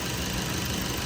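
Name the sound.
car engine idling after repair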